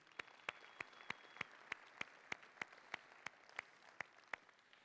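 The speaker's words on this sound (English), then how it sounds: "A round of applause for them, please." At the Made in America event in Indianapolis, slow, evenly spaced claps ring out one after another in a steady rhythm, crisp but fairly faint over a quiet background.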